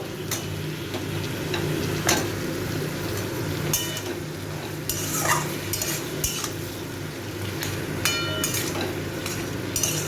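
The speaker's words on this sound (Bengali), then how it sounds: "এই সব সবজিগুলোকে একটু আমি পাঁচ সাত মিনিট ধরে একটু ভেজে নেব" Ridge gourd and other vegetables fry in a pan for a Bengali fish curry, giving a soft steady sizzle with repeated stirring scrapes and occasional utensil clinks, close by and without talk.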